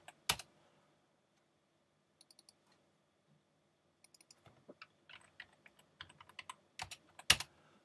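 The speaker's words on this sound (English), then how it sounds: "typing in the name." Quiet, sparse keystrokes and clicks on a computer keyboard come in small bursts with gaps between, plus a few louder clicks, close and soft with no talk.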